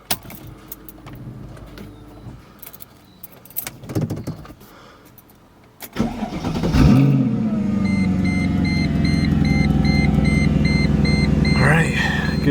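A Mercedes C55 AMG with OEM coil packs back on fires up after key jangling and a clicking ignition, cranking briefly before the engine catches and settles into a loud, steady idle with a high warning chime repeating over it.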